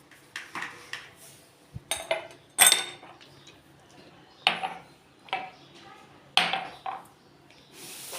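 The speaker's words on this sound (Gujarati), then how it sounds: "પહેલાં આઈસ ક્યુબ નાખીશું." Ice cubes are dropped into a glass for fennel sherbet, several sharp clinks and clatters coming one after another in irregular bursts, close up and crisp against a quiet background.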